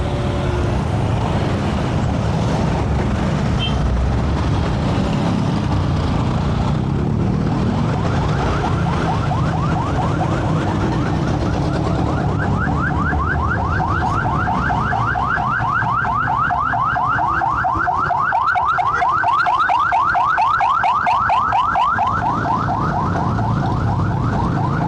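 A wailing siren cycles steadily through heavy road traffic in Pasig, in the Philippines, with engine rumble and vehicle noise around it and the siren growing clearer and more prominent toward the end.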